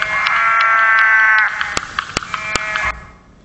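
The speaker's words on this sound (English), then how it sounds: "This is one of the calls that we received from the Uluru." A rare Australian frog recorded near Uluru after rain gives a loud, close, buzzing bleat-like call, one sustained burst, then sharp clicks, then a second shorter burst before it fades.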